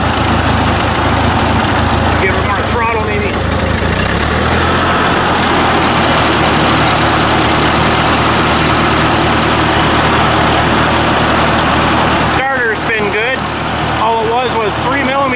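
An old tractor engine running and given more throttle, a loud steady low rumble that holds the whole time, with a person talking over it at the start and again near the end.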